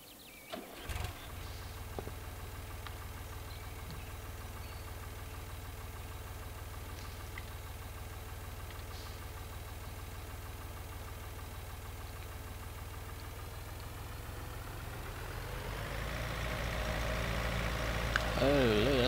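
An Ursus tractor engine in Farming Simulator 2013 cranks and catches, then settles into a steady low idle that grows louder and rougher near the end, with a voice talking over it.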